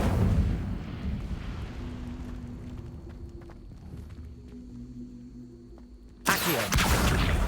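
The Incendio fire spell in the video game Hogwarts Legacy, a low rumbling roar that slowly fades, then a sudden loud fiery burst near the end.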